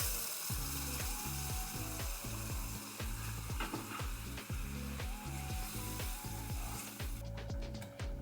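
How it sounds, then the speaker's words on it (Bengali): Fish curry fries hard in a pan with a loud, crackling sizzle broken by rhythmic scraping strokes of a spatula, the noise continuing steadily throughout. "দিয়ে দিচ্ছি গরম জল।"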